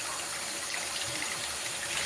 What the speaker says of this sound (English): So let's rinse the fish out.